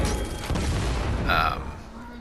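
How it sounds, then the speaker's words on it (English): Explosions from The Bowler weapon in Fortnite: Save The World burst in quick succession, booming thuds followed by a brief higher crackle, heard up close over game ambience. "if you don't get the explosions right on, I can hit this guy no problem"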